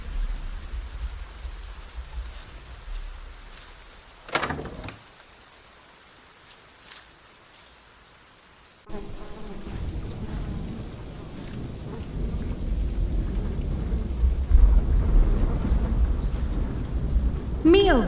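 Steady rain falls, soft at first. A sharp crack comes near the middle, then heavier, rougher downpour with low rumbling noise fills the rest.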